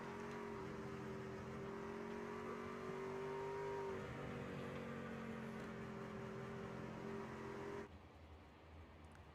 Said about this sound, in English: you can hear Cody McKinney. He's riding that, got that thing in neutral, just coasting along